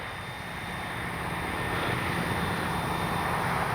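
Electric motor and propeller of an FMS Fox 3 m RC glider at full throttle during its maiden flight, a steady broadband whir and airflow drone that holds loud and continuous, slowly swelling, with no talk.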